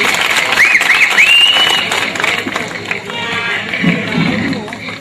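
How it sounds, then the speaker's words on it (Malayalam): An audience at a Malayalam comedy stage show claps and cheers, a steady wash of applause and crowd noise filling the room with no clear talking. "എന്താരും ഒന്ന് കൈയടിക്കത്? ഒന്ന് കൈയടിക്ക."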